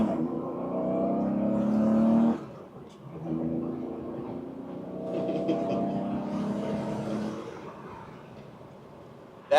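A 1976 Porsche engine revs hard with a rising harmonic whine, then cuts sharply as the shift from first to second gear drops the pitch, before it climbs again through several swelling pulls, loud and close.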